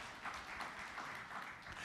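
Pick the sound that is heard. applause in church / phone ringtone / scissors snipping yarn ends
applause in church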